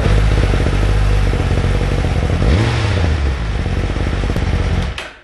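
A 2017-22 Suzuki GSX-R1000R with a Yoshimura Alpha slip-on exhaust idles loud and close with a deep burble. One quick rev rises and falls midway, then the engine cuts off at the end.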